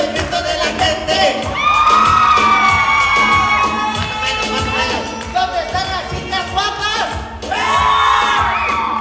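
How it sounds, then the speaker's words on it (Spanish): A crowd at a clown show in Mexico City shouts, whoops and cheers loudly and continuously, with high children's yells rising over the din and surging again near the end. "vamos a ver qué tal grita la gente aquí"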